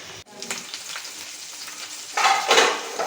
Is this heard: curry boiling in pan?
yes